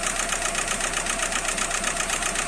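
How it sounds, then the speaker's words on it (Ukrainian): A Seat Alhambra 2.0 TDI BRT diesel engine, just repaired and with a fourth-injector problem, idles with a steady, close, rhythmic clatter and a constant, evenly pulsing hum. "Так двигунець робить гарно."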